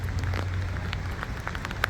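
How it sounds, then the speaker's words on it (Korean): Rain falls and drips from a ceiling inside a tourist attraction in Cebu, Philippines, making a steady hiss with scattered soft drip taps close by and no talking. "지금 비 와가지고 위에 천장에서 빗물이 떨어지거든요"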